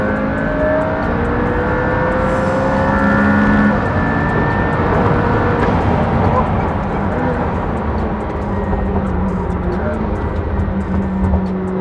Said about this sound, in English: Don't talk to me when I'm driving a P1.